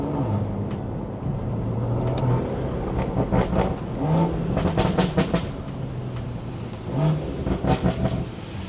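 A BMW with a B58 engine drives through rain, its engine note rising and falling in several revving surges over a steady road and wet-tire hiss, loud and close, with no talking.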